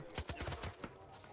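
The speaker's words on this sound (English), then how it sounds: "I like this silencer. This is a nice silencer." Suppressed gunshots from a sniper rifle in Far Cry 5, played on PC: a rapid run of about nine muffled, thudding shots in quick succession, fairly close, then a brief pause.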